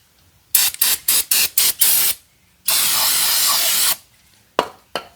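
Short bursts from a spray can of cleaner on grimy bolts of a 1995 Ford F150 project truck: six quick hisses, then one long spray of more than a second, and two brief puffs at the end, close and loud.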